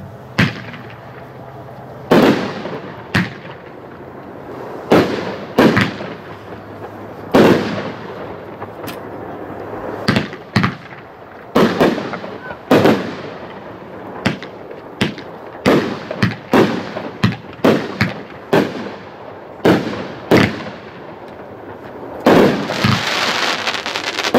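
A 500 gram, 15-shot consumer fireworks cake fires a steady series of sharp, loud outdoor reports spaced about a second apart, each burst ringing out with crackle and tail, ending in a denser crackling finale.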